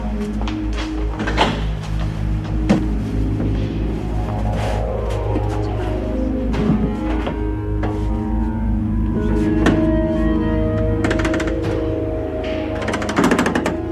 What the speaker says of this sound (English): The door's stuck.